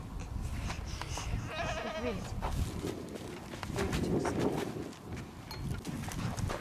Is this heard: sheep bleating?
yes